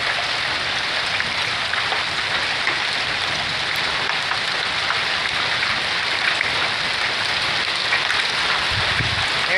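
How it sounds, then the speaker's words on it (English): Hail rattles steadily onto a truck during a spring storm on the Rockies Front Range, a dense, continuous patter of small stones that stays loud and even throughout with no voices. "Man, it's hailing on my truck."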